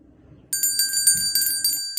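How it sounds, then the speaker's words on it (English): A bright metallic bell rings in quick repeated strikes, six or seven clear dings close by over a faint low rumble, like a small hand or bicycle-style bell. "You may also ring the bell."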